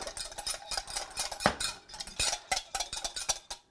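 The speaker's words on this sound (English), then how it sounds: "Let's get that stirred up." A spoon stirs a maple syrup vinaigrette in a bowl, giving a rapid run of close, light clinks and scrapes in an uneven rhythm.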